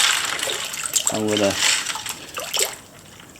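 Ice-and-water slurry poured and tipped into a container, sloshing and splashing steadily under a man's speech.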